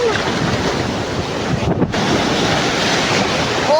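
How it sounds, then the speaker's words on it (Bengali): Big sea waves rolling in and breaking along the shore, a steady, loud, close surf roar mixed with strong wind buffeting the microphone, no voices. "আসছে বড় ঢেউ।"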